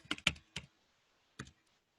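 Keys tap on a computer keyboard while printf code is typed, a quick burst of three or four close clicks, a pause, then one more keystroke, clear and isolated in a quiet room.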